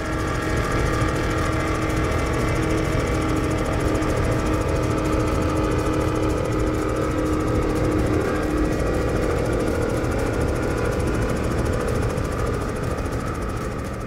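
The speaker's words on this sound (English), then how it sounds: "Just listen in to this uh, 36 Sunsation with these big Mercury Racing 540s." Heavy, continuous rumble of a 36-foot Sunsation powerboat running big Mercury Racing 540 engines at a powerboat event, steady and loud throughout with no pauses or talk.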